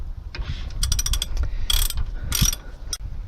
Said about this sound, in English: using the length of your ratchet